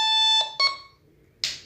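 A Makro Jeotech metal detector sounding its alarm: a loud harmonic beep, a second short beep, then a brief burst of noise, with no voices.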